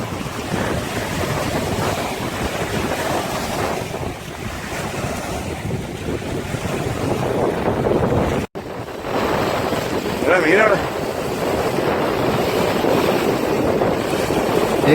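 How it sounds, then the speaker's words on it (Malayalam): Surf breaking on a sea shore during a fishing outing, with strong wind buffeting the microphone; a steady, loud roar of waves and gusts runs throughout, broken by a brief dropout midway. "But the wind is very strong here."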